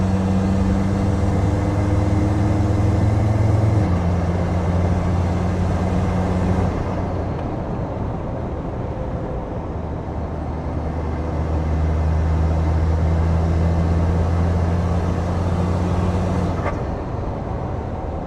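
A Land Rover Td5 diesel with a ZF 8HP automatic conversion accelerates and then lets off, its steady engine drone rising and shifting in pitch before settling lower, heard continuously from close by with no talking.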